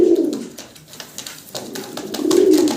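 Fancy pigeons for sale coo in repeated low, throaty bursts, loud and close, with a pause between the swelling calls and faint background noise.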